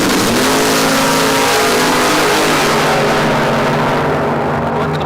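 A Ford Mustang race car engine accelerates hard during a time trial, a loud, close, rising roar with revving harmonics that climb and then ease off.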